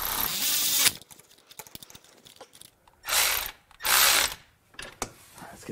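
Ratchet clicking as a bolt is tightened on a Porsche 911 996 Carrera during reassembly, with bursts of rapid ratcheting separated by short pauses, close and fairly loud.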